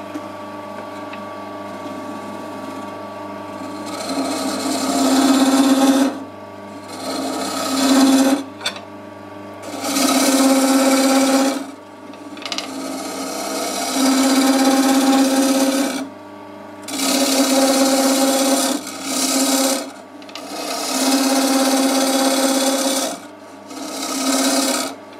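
Wooden candlestick spinning on a lathe as a chisel cuts it, giving repeated rasping, scraping bursts of several seconds each with short pauses between, close and fairly loud.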